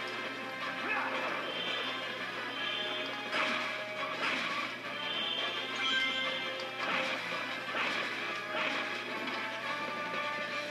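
Boxes smashing in the video game Sonic Unleashed, a run of sharp crashing bursts repeating every second or so amid busy game sound effects, fairly quiet overall.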